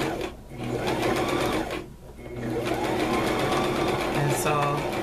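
A sewing machine stitching quilt strips together runs in steady, fairly quiet bursts with a short pause partway through, while a person talks over the mechanical hum.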